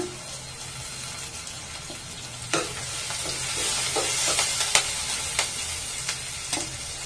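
A bunch of curry leaves drops into hot oil for a chickpea curry and crackles steadily, with several sharp pops and spatula clinks against the pan over a continuous close sizzle.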